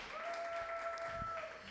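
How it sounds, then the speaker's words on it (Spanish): A church congregation gives steady, sustained applause that fills the hall at a quiet level, with a faint held tone running underneath. "Dale un aplauso al Señor"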